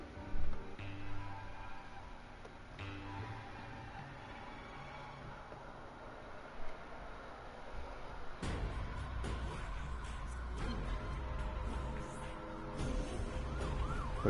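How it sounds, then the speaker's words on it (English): Sirens wail in a video game amid a police chase, a steady electronic siren that grows denser and louder with overlapping engine and game noise partway through, continuing to the end without talk. "Wouldn't be scared of sirens."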